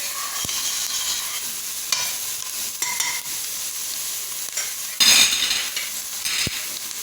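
Garlic fries in oil until golden for coxinha filling, a steady close sizzle broken by sharp utensil clinks and stirring bursts, with one louder flare of crackling partway through.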